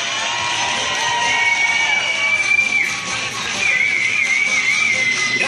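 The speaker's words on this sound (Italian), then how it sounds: "Un applauso!" Outdoor crowd outside the Ariston theatre in Sanremo cheering and whistling for a children's choir, a loud continuous mass of voices with shrill whistles rising over it throughout.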